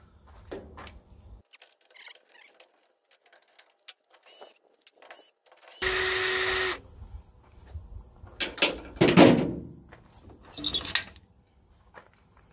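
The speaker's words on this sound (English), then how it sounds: "See if my drill will do it." A cordless drill whirs in one short, loud burst on the bolts of a dump trailer jack, surrounded by scattered metallic clanks and handling noises.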